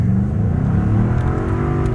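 A Ford EcoBoost car launches hard from the brake, its engine loud and close, revving up in a strained, rising growl.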